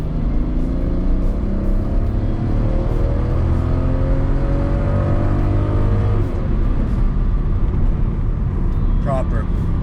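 V12 quad-turbo car engine running with a loud continuous roar and rising revs, heavy low rumble throughout, with talk mixed in.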